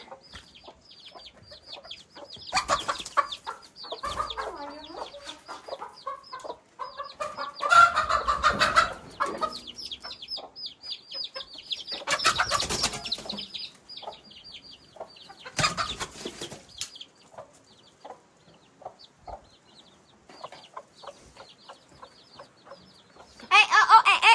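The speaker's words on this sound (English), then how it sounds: "little chickies. You guys are so cute" Little chicks cheep high and thin, close by, with a few louder clucking bursts now and then. The noise comes and goes over about twenty seconds.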